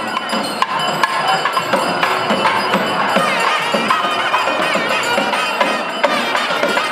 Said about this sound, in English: They are accompanied with drums and chanting of the crowd.